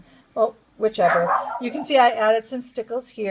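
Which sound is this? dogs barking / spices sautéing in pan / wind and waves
dogs barking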